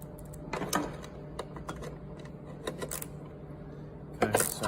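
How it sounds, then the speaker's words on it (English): Sharp metallic clicks and taps of a nut and bolt being tightened while installing a CCP1000, scattered irregular hits close up with a cluster of louder clatter at the end. "tighten the nut and bolt up"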